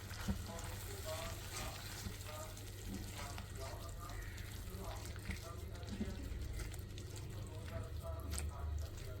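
Onion and tomato chutney with chili powder and salt cooking in a pan, giving a low steady sizzle with faint scraping from stirring, quiet and close, with a voice talking over it.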